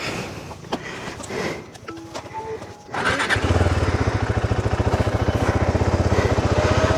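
A motorcycle on a ride near Ghandruk, Nepal, starts out quiet with a few clicks. Then its engine comes in loud and close, holding a steady, fast, throbbing idle-like rumble.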